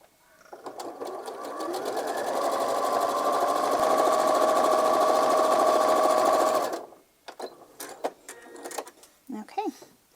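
A sewing machine stitches a donation quilt with a steady, fast mechanical whir lasting about six seconds, close and fairly loud, followed by a voice.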